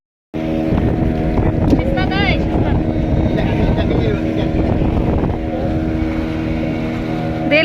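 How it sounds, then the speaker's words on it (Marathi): A boat engine runs steadily on the water in Goa near Panaji, a loud continuous drone with wind noise over the microphone and people talking over it. "चलो हा आपली का बोट"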